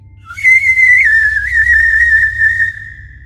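A single eerie whistled tune drifts up and down as a horror story sound effect, loud and close, one sustained melodic line with slight wavering pitch over a faint low hum, no speech.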